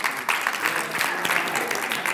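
Audience applause at a university research symposium closing, a dense steady clatter of many hands clapping in a hall, sustained for the full stretch with no voice over it.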